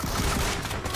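Gunfire in BGMI, the mobile battle royale game, a dense, loud, close burst of overlapping shots filling the brief moment without any voices.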